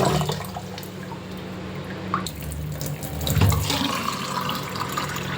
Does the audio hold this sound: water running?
yes